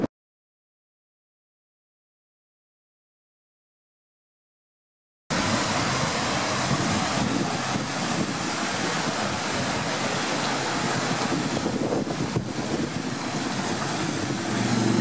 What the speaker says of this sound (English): A little man-made waterfalls here.